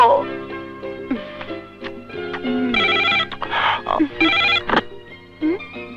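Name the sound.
telephone ringing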